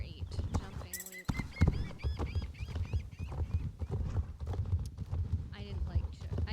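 Horse hooves in Star Stable during a figure-8 jumping loop: steady clip-clop footfalls with snorts and a brief whinny, continuous, under a person talking.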